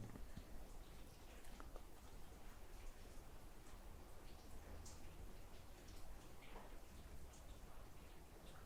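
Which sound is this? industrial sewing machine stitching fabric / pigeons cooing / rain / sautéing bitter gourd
rain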